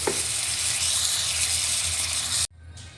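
Chickpeas hit a pan of fried spice paste, giving a steady close hiss of sizzling that cuts off abruptly near the end.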